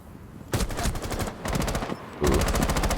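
In a video game, rapid shotgun blasts smash open a window: bursts of loud cracking shots in three quick clusters, close and harsh, with no voices.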